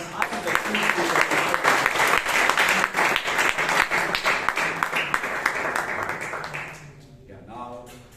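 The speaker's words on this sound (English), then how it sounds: "please give a round of applause for the gentlemen and the team" Loud, close applause at a Toastmasters club meeting in Bangalore for a team, with dense clapping carrying some distinct individual claps. It tapers off after about seven seconds as a voice starts speaking.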